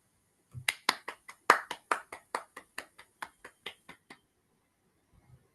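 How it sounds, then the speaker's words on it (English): Several people clapping over an online meeting for a special Toastmasters club session, about a dozen distinct claps in a quick irregular run, then silence. "Let's unmute and give a big round of applause to Gayatri"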